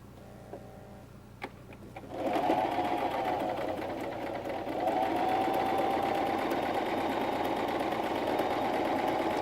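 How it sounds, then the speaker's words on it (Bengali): A sewing machine stitches a half-inch seam on a pair of pants, starting after a few quiet clicks and then running in a steady, fast mechanical whir close by. "1/2 ইঞ্চি চওড়া করে সেলাই করে যাব।"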